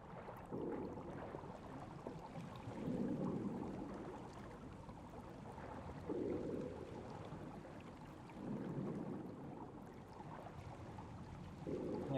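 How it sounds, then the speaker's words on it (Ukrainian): Swimming through water in the survival video game The Forest: rhythmic sloshing strokes repeat every few seconds, soft splashes and swirling water over a quiet underwater-like ambience, with no talk. "Я вже поплив."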